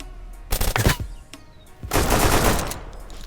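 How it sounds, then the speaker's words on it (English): Scorpion submachine gun fire in Deadside, a quick rattling burst of rapid shots, a lone crack, then a longer, louder sustained spray of automatic fire echoing nearby. "I know that he had a Scorp based on the sound of that gun"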